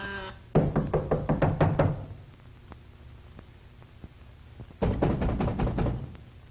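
A fist pounds on a door in two bursts of rapid, heavy knocks, roughly eight blows each, separated by a few seconds of quiet; close and loud.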